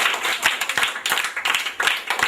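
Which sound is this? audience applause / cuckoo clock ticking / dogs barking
audience applause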